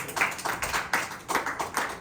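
A church congregation claps together in praise, rhythmic bursts of hand claps at a steady beat, moderately close and fairly quiet, with no talking over it.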